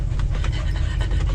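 A dog panting steadily and rapidly inside an RV motorhome arriving at a campground, close and fairly loud over a low engine rumble, with no talking.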